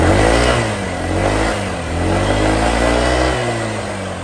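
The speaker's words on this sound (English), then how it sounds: "The engine actually sounds really good" A scrapyard motorbike engine with 48,000 miles revs up and down in loud, close bursts, the pitch rising and falling over a few seconds with no talking.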